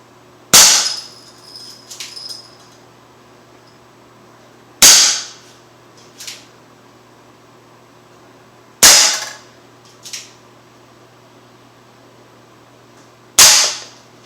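A Crosman SR.357 .177 caliber air pistol fires four sharp, loud cracks spaced about four seconds apart, each followed by a smaller mechanical click, over a quiet hum.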